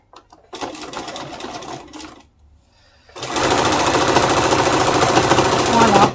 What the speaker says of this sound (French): Et je vais repiquer exactement dans la première piqûre que j'ai faite.